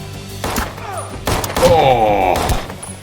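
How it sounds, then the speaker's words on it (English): Gunfire from the action film John Wick 2, heard as several dense bursts and thuds with a mix of movie soundtrack elements, moderately loud and continuous over the last half. "Does the gunfire seem to be getting louder?"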